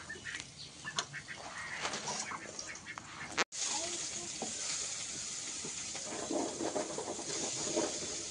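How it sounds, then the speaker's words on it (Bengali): Chopped onion sizzles in hot oil, a steady crackling hiss that carries on after a brief cut, with light stirring and faint bird or duck calls in the background. "তেলে দিয়ে দিলাম পেঁয়াজ কুচি"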